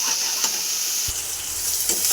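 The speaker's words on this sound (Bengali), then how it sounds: "মশলাটা দেখো আমার ভাজা ভাজাও হয়ে গেছে" Spice masala for khichuri sizzles and hisses steadily in a hot pan, a close, continuous frying crackle with a few soft stirring scrapes.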